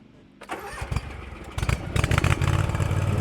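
A Hustler Raptor X 50-inch zero-turn mower engine cranks briefly and catches, then settles into a loud, close, steady idle.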